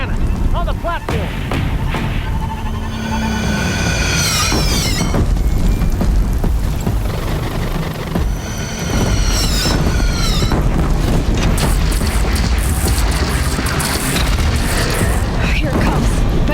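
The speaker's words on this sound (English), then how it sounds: "Take up a cannon!" Heavy cannon fire from the Horizon Zero Dawn video game, with repeated loud booms and mechanical clatter in a dense battle mix, shouted voices scattered over the continuous barrage.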